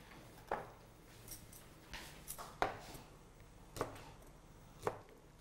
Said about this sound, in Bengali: এই ফাঁকে আমরা আমাদের মাশরুমটাকে কুচি করে নিই।